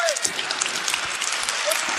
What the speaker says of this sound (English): Clive, I want you all to give this man a round of applause.